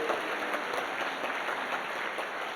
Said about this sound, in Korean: 하나님께 영광의 박수 올립니다.